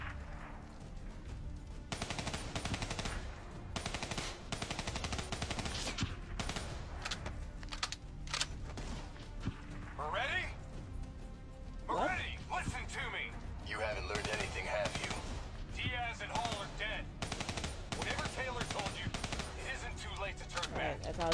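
Gunfire in the Call of Duty: Black Ops 3 video game, with loud, close machine-gun bursts and single shots repeating almost constantly for over twenty seconds, while voices speak intermittently over the shooting.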